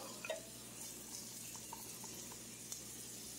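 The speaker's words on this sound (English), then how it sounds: "We're going to cook this until the onion gets a little soft." Chopped onion softens in a pan with a faint, steady sizzle and an occasional soft clink of stirring, quiet and unbroken for the whole stretch.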